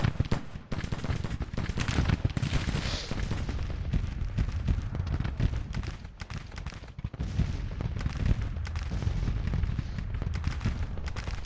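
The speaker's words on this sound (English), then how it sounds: "Letting the artillery do a bunch of work for us here." Dense artillery and gunfire from a Civil War battle in Grand Tactician: The Civil War, a continuous rumble of booming cannon shots and crackling volleys, loud and unbroken for the whole stretch with no talk.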